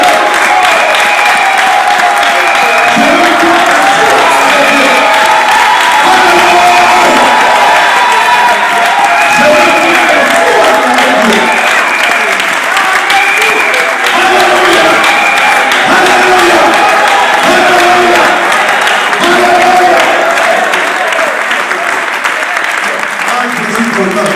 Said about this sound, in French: Je veux entendre les fous acclamer Dieu.